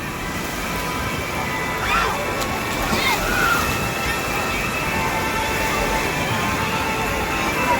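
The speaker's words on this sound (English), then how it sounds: "Heavy wave." Heavy artificial wave washing through an outdoor wave pool at Bunker Beach in Minnesota, a steady broadband rush of sloshing water with slight swells, continuous and fairly loud throughout.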